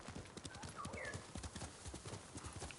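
Kage, a horse in Ghost of Tsushima, gallops in quick, steady hoofbeats close by, with a brief neigh rising over the rhythmic clip-clop.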